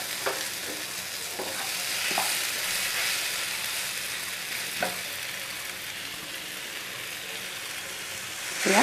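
Hot water poured over khichdi ingredients in a pan gives a loud, continuous broad sizzle and hiss, with a few stirring scrapes and no voices.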